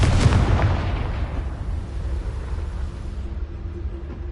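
A Confringo spell blast from the video game Hogwarts Legacy erupts as one loud, booming explosion at the start, then fades into a long, low rumbling tail with no talk.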